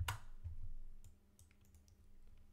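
Soft clicks of typing on a computer keyboard, a few scattered faint keystrokes over a low hum, quiet and close, with no talking.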